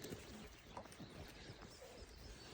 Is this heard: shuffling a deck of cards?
no